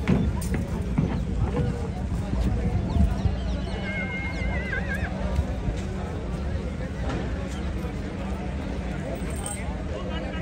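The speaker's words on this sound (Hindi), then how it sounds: "उस गाड़ी में आप देख सकते हो ये है भाई दुल्ला घोड़ा।" Horse neighing at a livestock market in a busy crowd, a brief whinny rising over constant murmur, rustling and handling noise, with people talking throughout.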